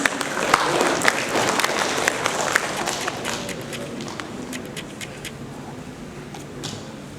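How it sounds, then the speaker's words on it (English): Audience applause at a conference on intelligent buildings and green design, a room full of people clapping steadily, loud at first and gradually thinning toward the end. "Ladies and gentlemen, a huge round of applause."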